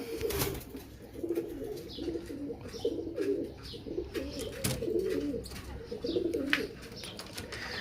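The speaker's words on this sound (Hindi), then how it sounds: "ये फ्रांसा कबूतर है" Fransa pigeons in a loft coo steadily in low, rolling throaty phrases, several birds overlapping nearby, with faint chirps and rustling behind them.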